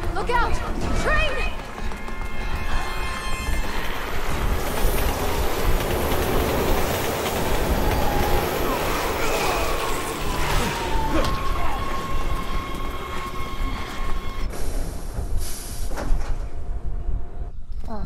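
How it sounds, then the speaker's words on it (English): A train passes in Resident Evil 6, a steady loud rumble with rhythmic rail clatter and some metallic squeal that continues for the whole stretch. "Look out! Train!"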